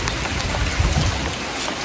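Heavy rain pours over a farm, a dense close hiss of drops on surfaces with a low rumbling swell in the middle, steady and loud with no talking.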